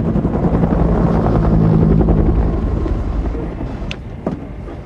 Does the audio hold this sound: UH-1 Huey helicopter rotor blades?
yes